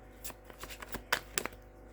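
Quiet card shuffling, a quick run of soft riffling snaps and flutters close by, uneven in rhythm and fairly faint.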